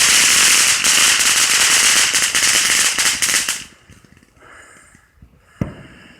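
Fireworks go off in a home backyard display for the Fourth of July, a dense loud crackling barrage of rapid pops for several seconds that stops abruptly, followed by near quiet and one sharp final bang.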